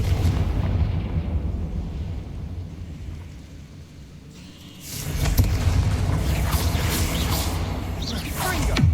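Confringo fire spell cast in the Hogwarts Legacy video game, erupting into a loud, sustained explosive blast with crackling rumble after a quieter lead-in, dense noise filling the rest of the moment.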